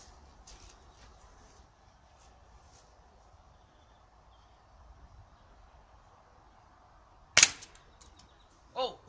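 Air rifle fired at a padlock, a single sharp crack after a stretch of quiet background hum, followed about a second and a half later by a second brief knock.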